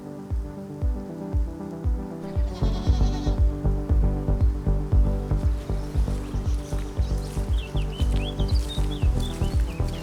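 Sheep bleat repeatedly along a quiet rural path, several animals calling close by in an irregular rhythm, with a steady patter like light rain underneath.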